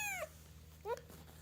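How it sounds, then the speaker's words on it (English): Kitten giving two short, high meows about half a second apart, close and fairly soft, over a low steady hum with no talk. "the final kitten here"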